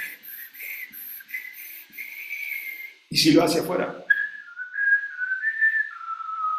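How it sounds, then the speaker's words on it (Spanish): A breathy, sustained whistle, a brief spoken phrase, then another wavering whistled tone, close to the listener. "los chiflidos uno hacia adentro y el otro hacia afuera"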